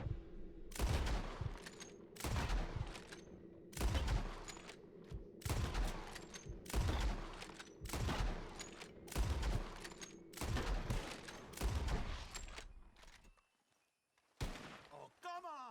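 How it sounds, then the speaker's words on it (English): Gunshots from a bottle-shooting contest in Red Dead Redemption 2, about eight loud, evenly spaced shots with ringing decays, then a pause and one more shot, with voices talking in between. "The one who shoots the most bottles wins."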